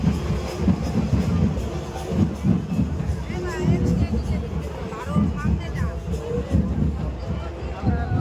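Dense crowd hubbub at the Thakurnagar Matua fair, a large all-night outdoor religious fair, with overlapping voices and babble, steady and close throughout.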